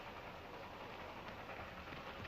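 A train rolls steadily along the tracks with a dense, continuous rumble and hiss that stays broadband and even throughout, with no voices.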